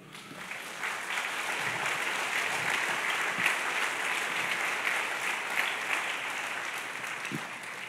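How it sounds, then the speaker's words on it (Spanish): A church congregation claps together in sustained, full applause, a dense steady wash of hands, with a few faint voices beneath. "Dale un aplauso al Señor."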